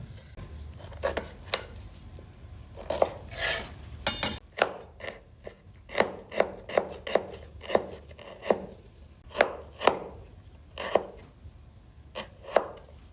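Knife chopping Thai ginger on a cutting board, a steady series of sharp, close taps with brief pauses, the cuts bunched in quick runs and never overlapped by speech.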